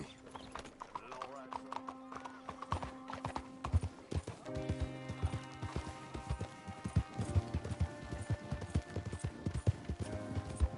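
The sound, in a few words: horse hooves while riding, Red Dead Redemption 2 video game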